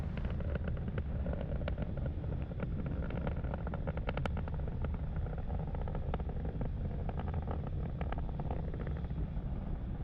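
Falcon 9 rocket engines roar during supersonic ascent on the PSN SATRIA mission as a distant, continuous, even rumble that carries through the whole stretch.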